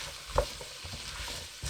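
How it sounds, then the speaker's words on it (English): Soft, steady sizzling of carrots and turnips frying in a pot over high heat, with a few light stirring scrapes, quiet and close. "now I can put in my carrots and neeps. And again, I'm frying them off a little bit"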